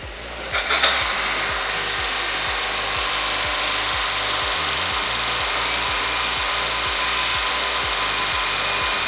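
A belt linisher runs steadily while sanding metal parts in a motorcycle repair workshop, giving a loud continuous whirring grind with a regular low rhythmic thump from the belt and no talk.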